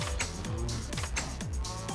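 A cow in Minecraft lowing in repeated short moos, about five evenly spaced calls over steady background noise, fairly close and moderate in level.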